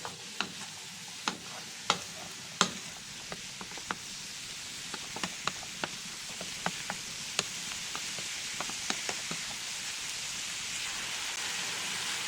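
Minced meat fries in a pan with onion while a utensil stirs and turns it, setting off a steady, close sizzle broken by repeated sharp scrapes and clicks against the pan.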